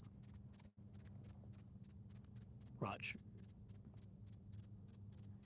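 A night cricket chirps in quick regular pulses throughout, with a frog-like croak and a brief spoken word partway through.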